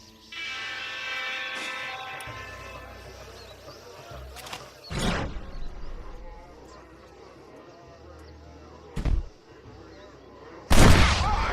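Gunfire in the Western video game Red Dead Redemption, a few heavy booming shots spaced several seconds apart, the last one loudest, over galloping hooves and background game sounds.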